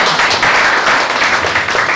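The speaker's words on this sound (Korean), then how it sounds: "세 분께 박수 한번 부탁드립니다." Dense applause from an audience at a talk show fills the space, a steady wash of many hands clapping at once, loud and close, welcoming three guests.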